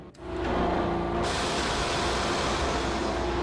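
A train pulling out of Roscoe Street Station in the Max Payne video game, a loud, steady rumble with a hum that rises quickly and holds throughout.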